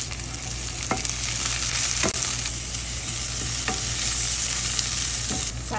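Pork adobo simmering in a pan with sugar, vinegar, fish sauce and Sprite, stirred with steady broadband sizzle and a few sharp utensil scrapes against the pan, close and continuous with no talking.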